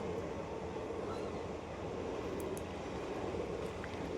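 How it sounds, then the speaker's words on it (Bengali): A train rolls past a level crossing in traffic, a steady, loud broadband rumble of rail cars holding evenly for several seconds with faint higher squeaks on top. "তার ট্রেন যাচ্ছে ট্রেনটা পেরিয়ে গেল"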